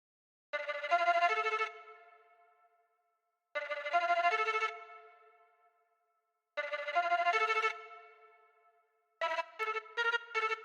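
A Falcon sample pattern built from a waltz tube bang and a Turkish lira velocity preset plays alone: three identical plucked, bell-like phrases with fading tails, then a quicker staccato burst at the close.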